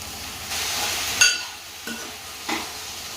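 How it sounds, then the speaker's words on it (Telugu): Okra and tomatoes frying in a pan, a soft sizzle broken by a few close spatula scrapes and a light clink against the pan. "బెండకాయలు కొంచెం సేపు ఫ్రై అయిన తర్వాత టమాటోస్ అయితే వేసేసుకుంటున్నా నేను."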